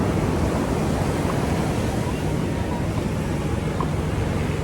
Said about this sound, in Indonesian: Inilah ombak-ombak yang ada di Santa Monica.